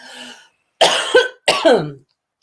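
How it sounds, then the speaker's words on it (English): Two sharp, close coughs in quick succession, each a harsh burst followed by a short rasp, with a quieter breathy sound before them. "I'm going to cough now."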